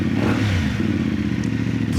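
A CFMOTO Ibex 450 motorcycle with a Yoshimura slip-on exhaust revs up close with a deep, rough exhaust note, rising and dropping as the throttle is blipped.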